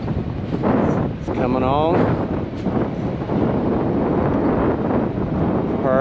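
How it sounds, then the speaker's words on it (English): Steady wind roars across an outdoor microphone, a broad rushing noise running throughout, with a person talking over it. "The wind's blowing."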